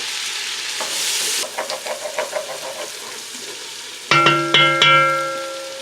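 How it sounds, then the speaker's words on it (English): Onions sizzling in a pan while cooking for haluska, a steady frying hiss with a run of quick spatula scrapes and taps, then a few ringing metallic clanks of the pan near the end, close by. "We're going to cook our onions until we're not caramelizing them."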